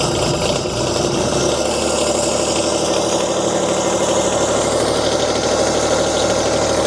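A Wolfe Ridge 35 SHO box wedge log splitter's diesel engine runs after a cold start in 2-degree weather, giving a loud, steady, close idle with a rough knocking pulse throughout and no talking.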